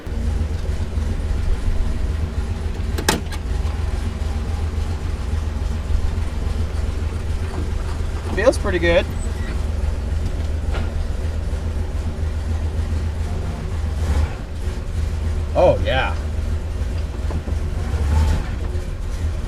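A 1967 Buick started and driven to test its brakes after a front-end rebuild, a steady low engine and road drone heard from inside the car, with a few brief spoken remarks and a sharp click.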